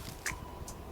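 A Pteranodon eating in the video game ARK, two short crunchy bites close up, the second fainter, over a low background hum.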